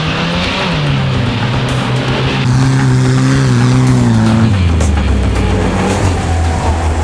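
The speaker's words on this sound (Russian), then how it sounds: "Оффроуд драг-рейсинг, поехали." A VAZ 2101 and an Audi Q7 launch in an off-road drag race, engines roaring loud and close as revs climb and shift, with continuous powerful engine noise throughout.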